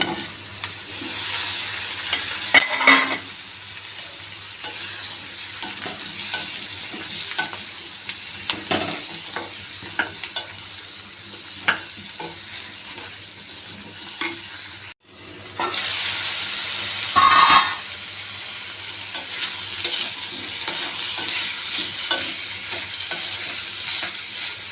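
Bottle gourd pieces fry in a pan and are stirred, a constant close sizzle broken by scraping strokes and a brief louder hiss partway through.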